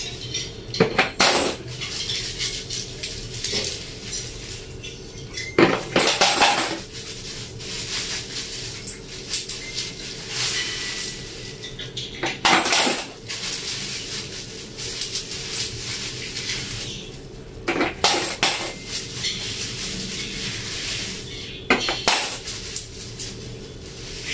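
Coins of 5, 10 and 20 pesos dropped into a piggy bank in bursts, sharp metallic clinks and jingles arriving in several separate handfuls with quieter pauses between, close and clear.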